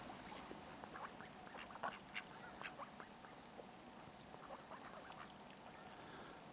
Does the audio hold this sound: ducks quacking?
yes